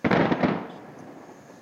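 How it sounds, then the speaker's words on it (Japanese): Distant fireworks at a beach festival with music and food: a cluster of booming bursts and crackles lands at once, then fades into a soft rolling echo. No one speaks. "向こうで花火が"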